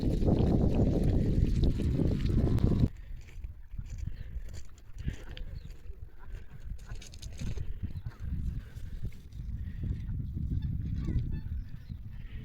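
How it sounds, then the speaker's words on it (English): Thousands of Brent geese honking and gaggling in a loud, dense chorus from a distance, a steady wash of calls over wind, louder at the start and then continuing more softly. "you can hear their loud gaggling sounds from very far away"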